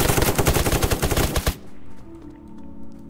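Rapid bursts of broadside gunfire in the online survival shooter Apocalypse Rising 2, loud and close for about a second and a half, then cutting off to a quiet game backdrop with a faint lingering hum.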